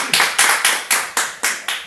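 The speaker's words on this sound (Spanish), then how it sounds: "Dale un aplauso fuerte a Jesús." A church congregation claps loudly in unison for Jesus during a sermon, sharp rhythmic claps landing about four times a second, about seven in a row.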